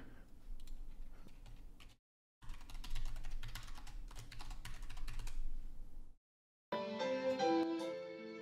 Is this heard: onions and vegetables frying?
no